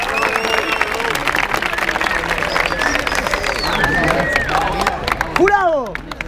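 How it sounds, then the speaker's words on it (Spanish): Crowd applause and cheering for rap battle performers at a freestyle event, steady and loud with lively chatter and whoops throughout, a few rising whistles or shouts near the end. "Y un aplauso para Addison, Des y Play."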